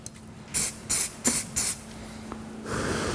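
Four short, sharp hissing bursts of CA glue activator spray in quick succession, close and crisp, followed by a faint click and a softer lingering hiss.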